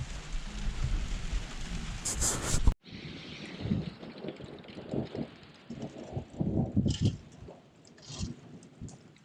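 Rain patters and hisses outdoors in the Colorado high mountains during a lightning storm, with gusty wind buffeting the microphone, broken by a brief cut and some low rumbling thumps.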